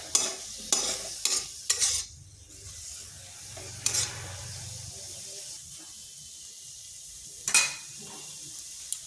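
Potato filling cooking in a pan with a little water in place of oil, with soft stirring scrapes and bursts of sizzle and clatter recurring in short strokes over a low bubbling hiss, close and moderate.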